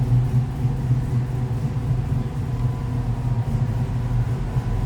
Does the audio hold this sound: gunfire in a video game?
no